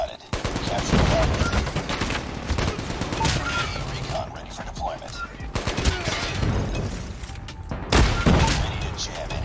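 Rapid gunfire bursts from the mobile shooter Call of Duty Mobile, a ranked multiplayer match, crackling dense and steady throughout with heavier booms near the end, mixed with game noise and a player's voice.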